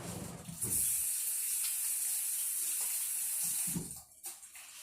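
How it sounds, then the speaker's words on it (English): Tap water runs into a kitchen sink while hands are washed beneath it, a steady close splashing hiss that cuts off near the end, leaving a few faint drips and rustles. "Wash my hands again."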